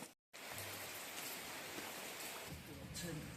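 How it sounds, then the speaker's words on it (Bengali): Steady village rain hisses continuously at low volume after a brief silent gap at the start, forming an even, close wash of falling water. "কারণ বৃষ্টি চলতেইছে, টানা বৃষ্টি হচ্ছে সকাল 6টা থেকে।"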